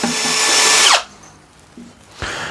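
A power drill drives a 4 x 40 mm Spax screw into maple wood, whining loudly for about a second and then stopping, with a second short burst of the drill starting near the end.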